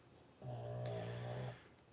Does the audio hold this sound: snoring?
yes